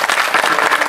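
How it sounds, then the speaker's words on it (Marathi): An audience at a Marathi kirtan gathering claps loudly together, a dense, close burst of applause that fills the brief moment with no one speaking over it. "त्यांनी एकदा जोरदार टाळ्या वाजवा."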